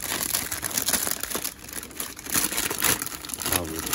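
Plastic delivery bag crinkles and rustles continuously at close range, with irregular bursts of crackling as it is handled while a packaged salad is unpacked.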